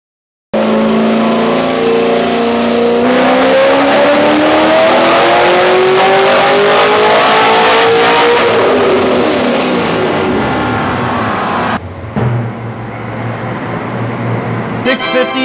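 An LS V8 Corvette or GTO roars loud and close through a wide-open dyno pull, pitch climbing steadily for about eleven seconds before cutting off abruptly, leaving a lower idle rumble with faint sounds at the end.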